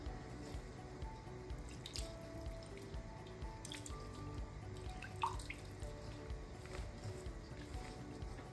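Water is poured little by little into couscous in a pot, giving quiet, close trickles and scattered drips with small splashes, faint overall, with no speech.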